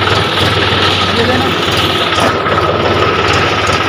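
A Mahindra 265 tractor engine runs loud and close in second gear on a narrow lane, a constant low diesel rumble with steady vibration throughout.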